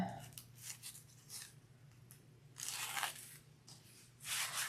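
Backing paper peeled off adhesive tape on a zipper pocket piece for a handbag, several short rasping tearing strips, close and quiet, separated by brief pauses.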